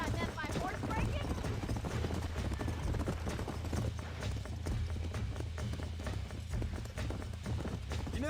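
Horse hooves clip-clopping at a steady trot in Red Dead Redemption, rhythmic and continuous for several seconds under game dialogue and ambient sound.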